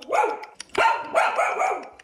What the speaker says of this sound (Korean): 우리 또 강아지들이 엄청 짖네